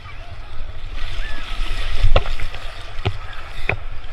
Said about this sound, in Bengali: দেখুন ঢেউ দেখুন শুধু।